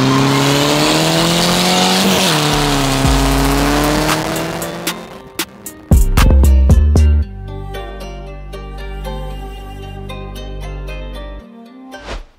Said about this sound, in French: Ok les amis, on va faire la petite montée draghi de la 206.